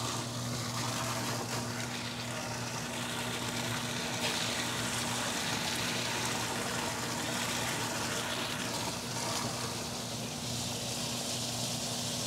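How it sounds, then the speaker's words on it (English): Water and abrasive slurry gushing steadily from a hose on a vapor honing machine as it is pumped out, a continuous loud rushing flow with a constant pump hum underneath. "And we're just gonna keep pumping this out until the water turns clear."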